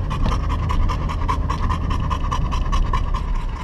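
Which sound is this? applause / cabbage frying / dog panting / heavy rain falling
dog panting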